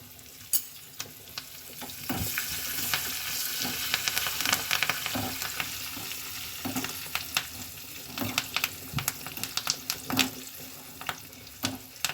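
Steady, close oil sizzle of dried red chillies and curry leaves tempering for sambar crackles throughout, with sharp spattering pops and occasional stirring clicks scattered across it.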